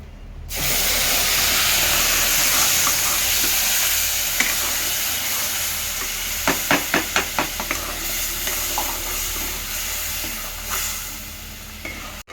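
Tomato puree sizzles and hisses steadily in hot oil for egg biryani, a dense continuous frying noise with a run of stirring clacks from a utensil midway through.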